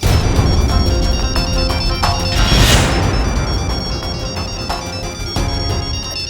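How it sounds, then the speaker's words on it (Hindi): A phone ringtone in a Hindi TV comedy scene, a loud electronic tone playing continuously over a steady background, with a brief swelling burst partway through and no talk over it. "बुलबुल क्यों फोन कर रहे हैं?"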